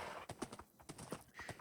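Horse hooves clip-clop in the Minecraft video game while several horses are led along together, a quick run of close, light, evenly spaced steps with no voices over them.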